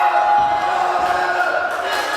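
Wrestling crowd at an SCW event roars steadily throughout, a dense, sustained wash of cheering and shouting from a large audience with no breaks.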